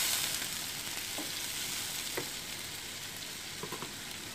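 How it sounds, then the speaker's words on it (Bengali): Onions frying in a pan give a soft, even sizzle close by, with a few faint spatula taps toward the end and no speech. "পেঁয়াজগুলো ভাজা ভাজা হয়ে গেলে এখানে আমি দিয়ে দিব পানি"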